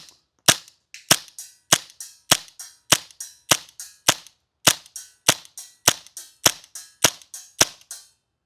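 A WE M712 Mauser gas-blowback airsoft pistol fires BBs in a run of about fourteen sharp, loud, evenly spaced cracks, each with a quick metallic echo, with no talk over them.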